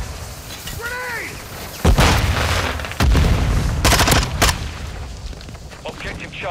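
A grenade explodes in Call of Duty MWII multiplayer, one of several heavy booms and bursts of gunfire that cut sharply through an ongoing battle soundscape.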